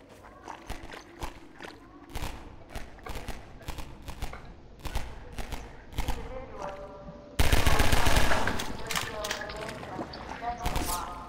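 Gunfire in Half-Life 2, rapid bursts of sharp shots at an irregular rhythm that grow into a dense, louder barrage toward the end, with a voice talking over the action.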